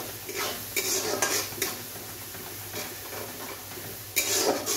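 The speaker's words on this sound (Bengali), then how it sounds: "এটা ভালো করে কষতে হবে" Ginger-garlic spice paste stir-fried in a pan while cooking an egg and okra dish, with steady sizzling and repeated scraping strokes of a spoon against the pot, close and busy.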